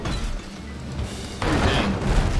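Mortar fire aboard a ship in the naval game Abandon Ship, heavy booms and rumbling thuds rolling over one another, with a sharper crash swelling in midway.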